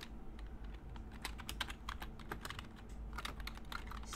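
Rapid, uneven keystrokes on a computer keyboard while coding an HTML and CSS web page, close and steady with clustered bursts of clicks and no voices.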